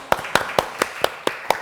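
An audience claps to close a 2021 social innovation forum session on health recovery during COVID. The claps are sparse and evenly spaced, about seven distinct claps in under two seconds, close to the microphone with no talk over them.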